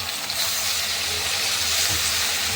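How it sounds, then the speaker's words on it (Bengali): Water poured into sizzling masala for a Bengali rui fish curry, a steady close hiss and sizzle throughout the short moment. "এবার অল্প করে জল দিয়ে দেবো।"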